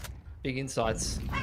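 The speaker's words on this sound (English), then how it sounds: "but that was a dog" A dog gives a short burst of yipping barks in the background of an esports broadcast for the IEM Dallas Oceania closed qualifier, heard briefly under a caster's talking.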